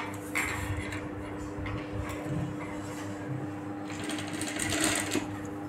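A tailoring sewing machine stitches front piping onto a blouse, a quiet steady mechanical whir and rapid ticking running throughout, swelling slightly near the end.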